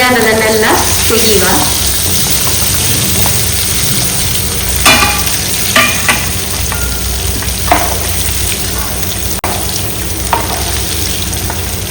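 Ginger garlic paste and garam masala fry in a pan with a loud, steady sizzle, punctuated by a few sharp scraping clicks of stirring throughout.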